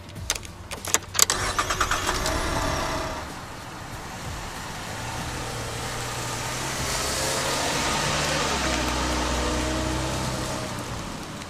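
A Chevrolet Camaro cranks and fires up with a few sharp bursts, then its engine settles and carries on steadily as the car pulls away, with road noise rising underneath.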